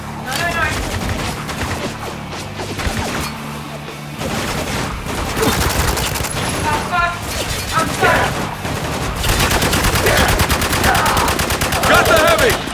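Rapid automatic gunfire from a Spec Ops video game firefight rattles in dense bursts with booming hits, loud and continuous, while soldiers shout over the battle.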